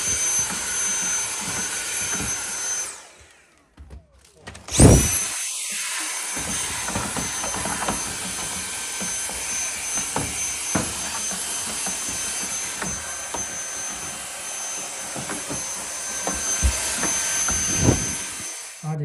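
A vacuum cleaner roars steadily while cleaning out the inside of a GE clothes dryer. It drops out briefly and then restarts with a sharp surge, and its loud whine holds for the rest of the stretch.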